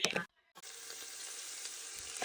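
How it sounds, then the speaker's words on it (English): Beef browning in a hot pan sizzles in a steady bright hiss after a brief stir and a short silent gap, close and continuous with no voices. "Sauteed my beef on both sides. It is nicely browned off."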